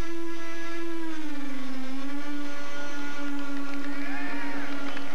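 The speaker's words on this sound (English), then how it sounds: "Believe the sound of that engine, or maybe I should say the quietness of that engine." Engine of a scale model aircraft during landing at the US Scale Masters 1993, a steady, fairly quiet droning tone that dips slightly in pitch and holds on without talk.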